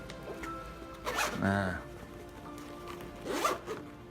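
A zipper is pulled closed on a SHAD smartphone holder case, giving a near, scratchy rasp of about half a second, with a softer zip sound after it and brief talk nearby.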